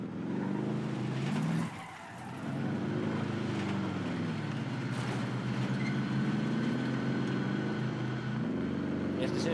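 A car in the video game Warzone drives with a steady engine drone and skidding tire noise, loud and continuous for several seconds, with voices talking over it.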